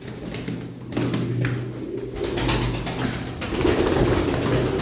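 Domestic tumbler pigeons coo softly in low, rolling bursts close by, with rustling and shuffling sounds around them.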